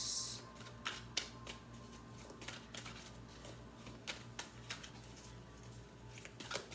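A deck of tarot cards is shuffled by hand, giving repeated crisp riffling and tapping strokes in an uneven rhythm, close and fairly quiet over a low steady hum, with no talking.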